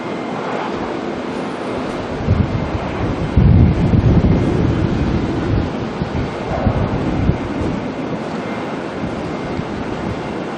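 Qatar Airways jet departing Auckland Airport, a broad roaring engine rumble heard from a distance that swells in the middle and stays buffeted by wind noise, with no talking.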